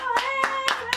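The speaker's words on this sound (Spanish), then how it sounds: "Un aplauso a mi madre, que lo ha hecho genial." Four rhythmic hand claps for a YouTuber's mother, evenly spaced and close, over a steady background hum with faint tonal sounds.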